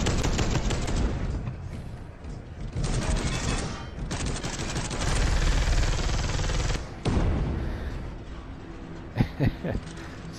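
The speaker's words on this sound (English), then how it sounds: "So that's what an assault cannon can do." Heavy automatic fire from an assault cannon in Space Hulk: Deathwing, a loud, dense, sustained roar of rapid shots broken by brief pauses, with sharper impacts near the end.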